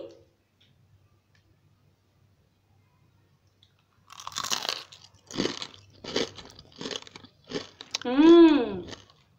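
After several seconds of near silence, a crunchy pakora is bitten and chewed up close in a series of four or five sharp, loud crunches, and a voice speaks briefly at the end.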